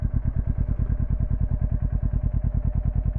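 A motorcycle runs slow figure eights in a parking lot on the clutch, its engine a close, rhythmic low thumping that pulses evenly throughout without speech.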